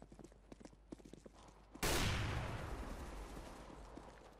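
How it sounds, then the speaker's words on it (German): Quiet clicking and footsteps, then one sudden loud CZ pistol shot with a long decaying echo in a Counter-Strike: Global Offensive competitive match. "Zwei Schüsse mit der CZ."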